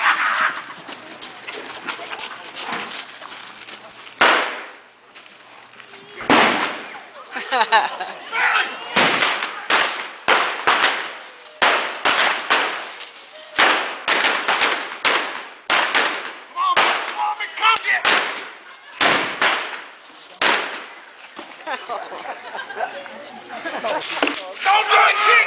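Dynamite blasts go off in a Wild West gunfight show, sharp loud bangs scattered irregularly across a noisy outdoor scene, mixed with shouting voices and crowd noise.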